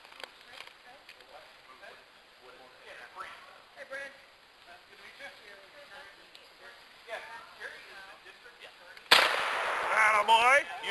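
A rifle shot at target practice comes near the end as a sudden loud blast, following a long stretch of quiet, soft talking.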